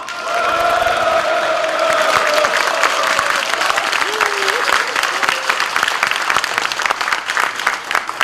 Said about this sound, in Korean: 지금부터 통합진보당 전라북 도당 창당대회를 뜨거운 박수와 함성으로 시작하겠습니다.